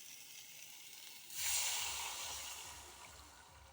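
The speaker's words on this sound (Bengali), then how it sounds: "জলটা একটু বেশি পরিমাণেই দিলাম" Water is poured into a hot cooking pot of lightly fried potato, carrot, papaya and goat trotters, bursting into a loud steamy hiss partway through that holds, then slowly tapers off.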